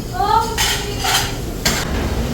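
Dishes being washed from a big pile on a ship: clattering plates and cutlery clinks in a few bursts, close and fairly loud, with a brief tonal squeak before them.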